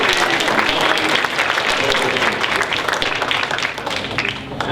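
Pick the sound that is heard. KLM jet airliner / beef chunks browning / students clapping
students clapping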